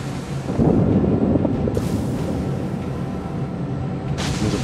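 Secondary guns of a US destroyer, the Nicholas, firing in the naval combat game World of Warships: dense, loud, continuous rumbling booms and cracks that overlap into a steady barrage, with no voices.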